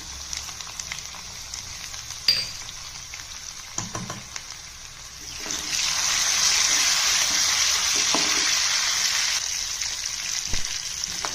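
Mustard seeds, cumin and crushed garlic frying in hot oil for a lentil sambar, a steady close sizzle that swells louder midway with a few faint clinks, no talking.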